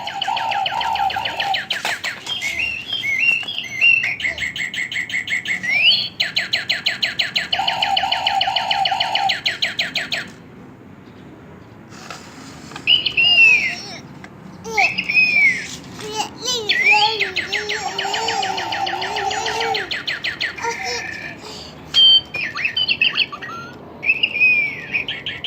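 A lovebird gives long, sustained chirping song in extended bursts of rapid, high trilling with brief gaps, fairly close and clear; a voice babbles faintly at times.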